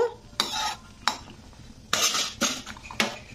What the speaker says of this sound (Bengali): তো এবারে একটু নাড়াচাড়া করে দেব।